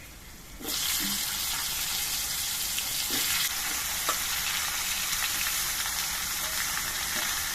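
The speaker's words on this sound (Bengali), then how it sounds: "কালো জিরে আর কাঁচা লঙ্কাটা ভাজা হওয়ার পর এর মধ্যে আমি কচুর লতিগুলো দিয়ে দিচ্ছি" Taro stolons dropped into hot oil with nigella seeds and green chillies, a sudden loud sizzle bursting up and then holding as a dense, steady hiss with occasional spatula scrapes.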